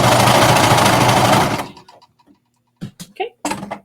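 A sewing machine stitches leggings, a loud, close, steady mechanical whir that lasts about a second and a half and then stops, followed by quiet handling clicks and rustles.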